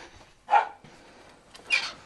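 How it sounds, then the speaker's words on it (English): A pet dog named Blue barks twice indoors, two short, sharp woofs spaced about a second apart, moderately loud against a quiet room. "my dog's barking"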